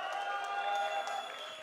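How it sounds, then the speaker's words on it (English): A crowd at an esports match between CLG and paiN Gaming claps and cheers, a dense, fairly distant wash of applause lasting a moment, with faint voices mixed in. "They have been cheering for you the whole time."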